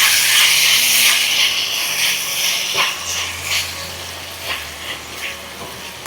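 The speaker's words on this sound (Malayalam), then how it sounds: "ഇനി ഒന്ന് ഇളക്കി കൊടുക്കാം." Chicken stirred in a hot pan with tomato ketchup and soy sauce, a steady loud sizzle and hiss that fades somewhat as scraping stirs and clinks break in every second or so.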